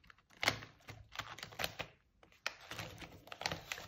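A scratch-off budget sticker is scraped in short, close, irregular bursts of dry scratchy clicks separated by brief pauses, with no speech.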